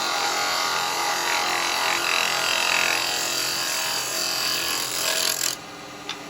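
A carbide chisel cuts a natural-edge firewood bowl spinning on a wood lathe, giving a steady, close, loud scraping hiss that holds for several seconds before dropping off abruptly near the end.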